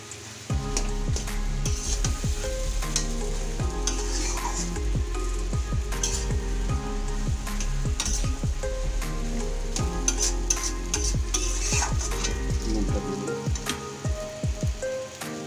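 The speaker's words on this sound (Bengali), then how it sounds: "এবারে এভাবে আস্তে আস্তে ব্যাপারটা মিক্স করে নিতে হবে পেঁয়াজের সঙ্গে" A smashed fish and potato mash is worked together with onions in a pan, giving steady scraping and thick squelching strokes with a faint sizzle underneath, close and continuous for the whole stretch with no talking.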